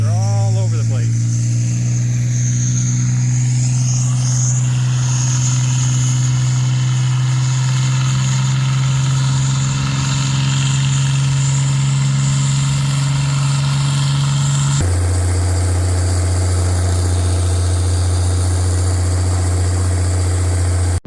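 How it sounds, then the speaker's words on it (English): A Merlin aircraft engine running at the Oshkosh airshow, a loud, steady, deep droning roar that shifts pitch partway through, with a voice speaking over it. "they're running a Merlin engine over there"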